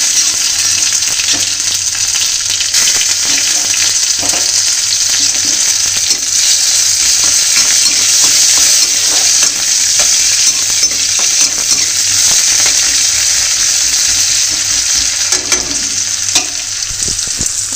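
Cumin and chopped onions frying in a pan, a loud, steady, close sizzle running throughout with occasional stirring scrapes and no talk.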